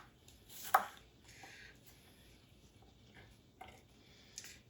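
A knife cuts small Persian cucumbers in half on a board, giving a few sparse, fairly faint cuts: one clear knock near the start, then lighter taps later, with no talking.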